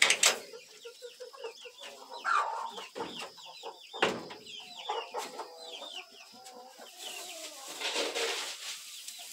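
Several chickens cluck and squawk in overlapping bursts, fairly close, with busy rustling and scattered calls throughout; no talking.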